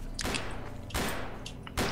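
Gunfire in a video game, three loud, booming bursts of shots spaced under a second apart, each one sharp at the start and then rumbling away.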